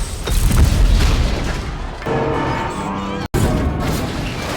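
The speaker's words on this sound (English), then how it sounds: "planting a bomb at Wade's home in the Stacks, which tragically kills several people" A bomb goes off at a home in the Stacks in a movie scene, a heavy booming blast with rumbling debris, followed by a sharp cut and a continued low roar.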